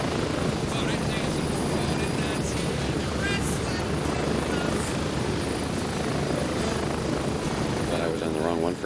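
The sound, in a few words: helicopter flying in a video game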